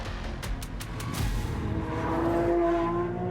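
A Lamborghini Countach hybrid engine rises under hard acceleration, a loud sustained roar climbing through the gears after a few sharp clicks at the start, heard close by.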